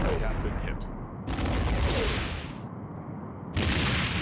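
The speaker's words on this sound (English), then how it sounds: "Enemy ship is firing." Enemy starship weapons fire in the game Star Trek: A Final Unity, loud bursts of blasts broken by short gaps, with a voice speaking between them.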